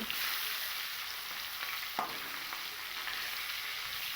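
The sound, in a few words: katla fish pieces frying in hot oil in a wok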